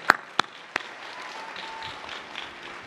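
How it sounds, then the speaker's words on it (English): Audience at a Georgia Tech bachelor's graduation ceremony breaks into a few sharp claps, then a thin, fairly quiet patter of applause in a large hall. "yeah, we can applaud for that."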